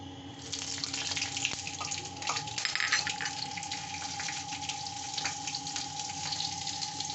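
Whole spices tempering in hot ghee for mango khichuri, a steady close sizzle and crackle with a faint tonal hum running throughout, no voices.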